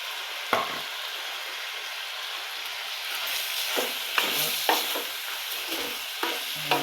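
Chopped chillies fry in hot tempered oil with a loud, continuous sizzle, and a utensil stirring the pan adds occasional sharp clinks and scrapes.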